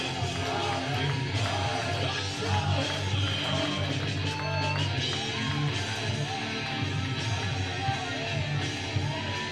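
Wrestling fans at a women's triple threat match shouting and cheering in a sustained, loud din, scattered whoops and bellows rising from the mass of voices over a steady low hum.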